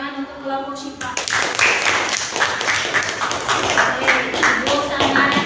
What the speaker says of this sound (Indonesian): tepuk tangan untuk kelompok Syifa